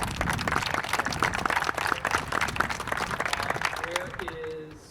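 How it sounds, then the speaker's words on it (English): Sustained crowd applause at a ribbon cutting ceremony for a new building at 1000 North Avenue, dense clapping that fades out as a voice begins to speak. "I think they deserve a round of applause"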